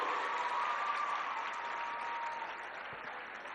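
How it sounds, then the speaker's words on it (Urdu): Children applaud together in a steady, dense burst of clapping that stays loud throughout, easing slightly toward the end as a crowd at an outdoor political address. "بڑی اچھی تالیاں بجا رہے ہو"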